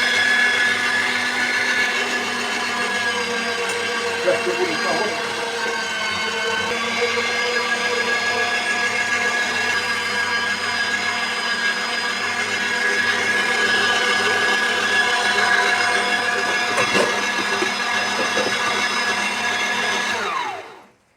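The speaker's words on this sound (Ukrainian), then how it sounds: "через м'ясорубку курячі сердечки та цибулю." Meat grinder mincing chicken hearts and onion, a loud continuous motor whine with steady grinding that runs close and unbroken for about twenty seconds before stopping, no talk over it.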